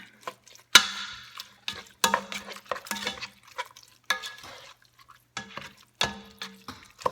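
Picadillo ingredients being stirred and mixed in a pan, with scattered scraping, clinking strokes in irregular bursts and quiet gaps between them, close by and fairly soft.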